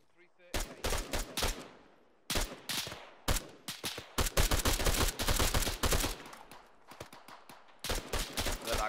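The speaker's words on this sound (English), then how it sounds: "Covering fire at that compound" Covering gunfire in a military video game rattles out in repeated loud bursts, clusters of rapid shots separated by brief pauses, close and dominant.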